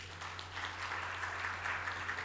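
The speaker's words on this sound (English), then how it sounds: "I think it deserves a huge round of applause." Audience applause for Amitabh Kant at a business conference opening address, a steady wash of many hands clapping throughout, moderately loud and even with no voices over it.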